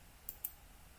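A computer mouse clicks twice in quick succession, faint and close, with a quiet room hum around the clicks.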